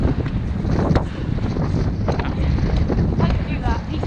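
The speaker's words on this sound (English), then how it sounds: "I don't know if you can hear me, it's so windy." Strong gusty wind buffets the microphone on an exposed hilltop in winter UK countryside, a loud continuous low roar with surges throughout, with faint voices partly under it.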